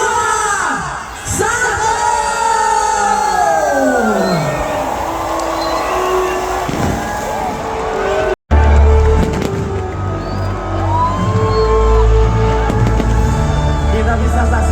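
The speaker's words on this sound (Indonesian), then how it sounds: "Bersama kemegahan pesta kembang api pada malam hari ini" Fireworks bursting and crackling amid a noisy outdoor crowd at the closing night of the Jakarta Fair in Kemayoran, with rising whistles and booms, loud throughout and briefly cutting out partway.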